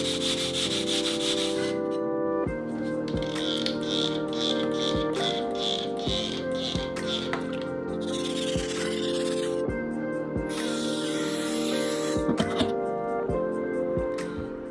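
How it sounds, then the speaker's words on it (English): A steel electric power planer blade is rubbed back and forth on a wet flattening stone, giving a steady gritty scraping with regular strokes, close and fairly loud throughout with no talk. "There's a little bit of a cup in it, so I'm gonna use this, my flattening stone."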